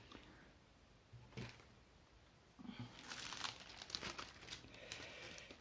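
Diamond painting canvas being cut, with quiet crinkling and snipping rustles that grow busier and louder toward the end, close and faint.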